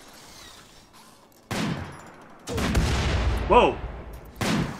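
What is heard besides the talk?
gunfire in the video game RimWorld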